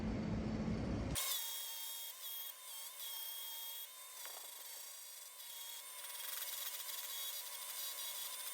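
Bent wood for a guitar stand being shaped by hand, producing a quiet, steady rubbing and rasping scrape with slight variations in stroke and no talking.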